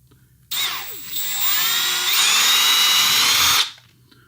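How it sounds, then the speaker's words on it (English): A power drill whines steadily for about three seconds, bores into a BMW E30 instrument cluster tab for repair, then stops abruptly. "So now we drill."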